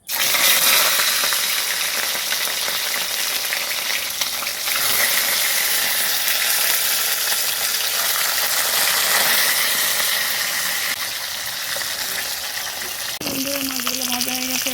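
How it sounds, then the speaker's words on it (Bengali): Rui fish frying in hot oil in a kadai, a loud, dense, steady sizzle and crackle that fills the whole stretch, easing slightly near the end with a brief clink of a utensil. "এবার মাছ দিয়ে দেবো ভাজার জন্য"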